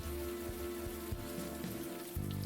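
Rain falling in the Unavowed video game, a steady close patter of drops on surfaces with a low hum underneath, and no voices.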